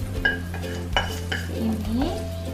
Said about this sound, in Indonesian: langsung aja kita masukkan bumbu yang udah kita tumis tadi